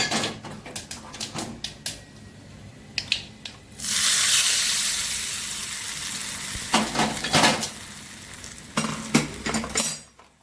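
Hot tempering of oil with sesame seeds and curry leaves poured into semolina handvo batter, giving a sudden loud hiss and sizzle that fades gradually, between clinks and scraping of a pan and spoon.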